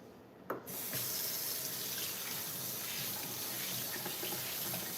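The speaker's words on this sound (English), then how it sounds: "I will rinse off my hands" Tap water gushes steadily into a sink as dough is rinsed off hands. The flow begins after a brief click of the faucet and runs continuous and close to the end.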